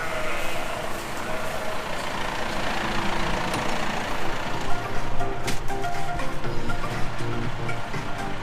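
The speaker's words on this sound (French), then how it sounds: "je vais éteindre le tracteur" A heavy diesel tractor engine idles steadily with a low rumbling throb, close by, and a faint higher whine over it; no voices.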